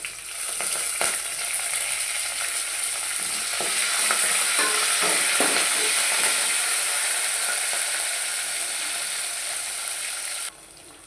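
Curry leaves fry in hot oil for tomato rasam, giving a steady, close, bright sizzle with a few stirring clicks and scrapes throughout, then dropping off sharply near the end.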